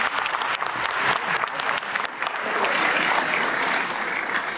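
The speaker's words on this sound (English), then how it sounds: "A big round of applause, everyone." Audience applause at a conference honouring Nobel laureate Malala Yousafzai, a dense, sustained burst of many hands clapping at once, loud and close, with no voices over it.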